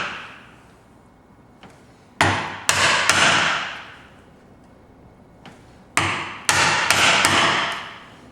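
A chisel struck by a mallet chops a mortise in wood, with sharp ringing knocks in two bursts of quick blows, each strike followed by a short decaying ring, close and loud with no talk.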